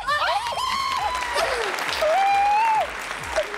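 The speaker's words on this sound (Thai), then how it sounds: "พวกเธอควรปรบมือถ้าจับทั้งสองคนที่ไปปารีส" A studio audience applauds on a fashion design competition show, the steady clapping running under a voice and some musical tones throughout.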